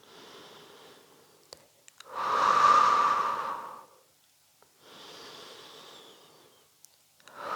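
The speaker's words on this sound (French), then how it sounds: "Je souffle. Inspire, repose." A long, strong breathy exhalation during a Pilates side-lying leg-lift exercise, loud and close, set between softer inhales and quieter breaths, with no talking.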